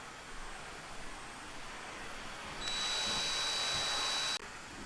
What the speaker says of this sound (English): So I'm going to drill and tap the rivets now.